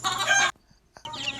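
Chickens cluck and call on a farm, a short loud burst of bird vocalizations, a brief pause, then another burst, close by with no talking.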